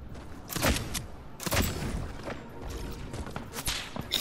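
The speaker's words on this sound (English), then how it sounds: "They're shooting at us! They're shooting at me!" Gunfire in the video game Fortnite, sharp shots snapping out in a few separated bursts around other game noise, moderately loud and close, with no talk over them.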